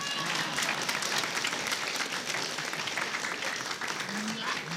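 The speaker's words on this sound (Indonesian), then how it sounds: "tepuk tangan" An audience at a comedy quiz show breaks into applause, a broad wash of clapping that holds steady throughout, with a voice briefly over it.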